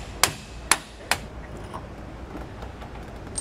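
Three sharp metal-on-metal hammer strikes driving out leaf spring eye bolts on the axle of a 2020 Grand Design Momentum 5th wheel RV, close and ringing, evenly spaced in the first second, followed by quieter workshop background.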